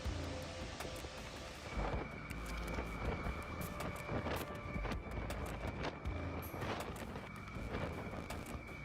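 Strong storm gusts reaching hurricane force batter Lanzhou, Gansu, with short intense rainfall: a loud, continuous roar of wind buffeting the microphone, with deep rumbling surges and scattered sharp knocks throughout.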